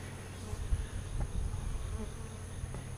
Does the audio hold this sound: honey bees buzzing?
yes